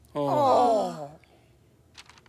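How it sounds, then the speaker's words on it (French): A cartoon zebra gives one long, drawn-out voiced yawn that rises then falls over about a second, loud and close, followed by quiet. "Hey, j'ai bâillé."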